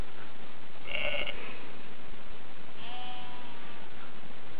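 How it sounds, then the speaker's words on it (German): Sheep bleating in the maeSheep video game on a Nokia N900, two short bleats about two seconds apart over a hissy background, faint and with no talk. "Wie man hört, schöne Schafgeräusche."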